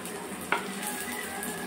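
Potatoes and onions sizzle steadily in a pan, with one sharp scrape or clack of stirring partway through, all close up and without speech.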